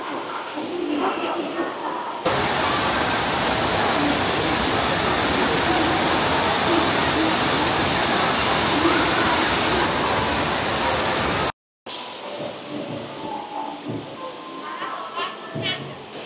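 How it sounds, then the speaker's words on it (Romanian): A waterfall roars from behind its curtain of water, a steady loud rush that fills most of the stretch, with a brief cut and quieter indoor ambience at either end. "Și am ajuns în spatele cascadei"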